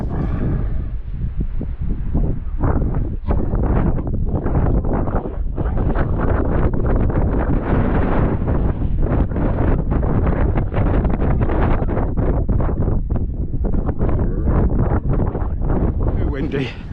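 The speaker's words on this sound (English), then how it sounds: "Too windy." Strong gusting wind buffets the microphone on the crags at Hadrian's Wall, a loud continuous rumble with rapid fluttering bursts, a voice speaking faintly under it.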